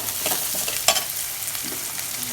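Onions sautéing in a pan for anchovy dry fish thokku, with a close, continuous sizzle and scraping stirs, one sharper clack near the start.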